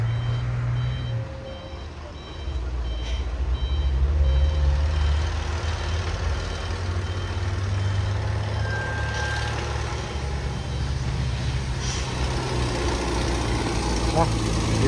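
Truck reversing on a hillside road where a dump truck loaded with gravel is parked behind, its backup alarm beeping steadily over a loud idling diesel engine rumble, with people talking nearby.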